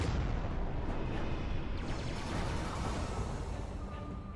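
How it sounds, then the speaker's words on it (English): A broadside cannon salvo fired at a pirate ship in the space strategy game Halcyon 6 rolls out as a dense, rumbling barrage of overlapping booms, loud and sustained. "we're going to go for a broadside salvo at this pirate"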